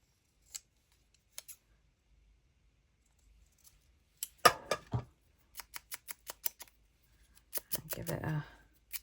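Scissors snip through paper specimen slides in short bursts, a few isolated cuts first, then a quick run of crisp close snips and a rustle of paper handling at the end, with no talking.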